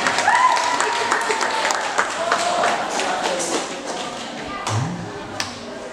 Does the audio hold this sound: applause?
yes